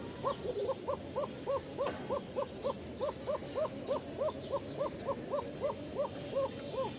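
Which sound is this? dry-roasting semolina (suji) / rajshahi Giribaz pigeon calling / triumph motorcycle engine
rajshahi Giribaz pigeon calling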